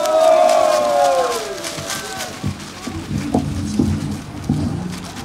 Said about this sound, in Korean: 많은 경의의 박수를 보내주시기 바랍니다